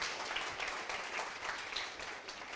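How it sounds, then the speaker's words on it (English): Audience applause for Professor John Tukey, a quiet, steady wash of many hands clapping at a distance for under three seconds, with no voices over it. "Let's give a big hand of applause to Professor John Tukey"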